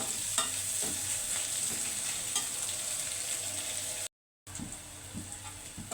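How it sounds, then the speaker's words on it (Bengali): Onions and green chilies fry in hot oil as curry prep, a steady close sizzle with crackling bursts and occasional stirring, running alone without talk and broken by a brief gap near the end. "এটা আমি ভেজে নিব সুন্দর করে একদম বাদামি কালার করে ভেজে নিয়ে বেঁকে তরকারিতে দিব"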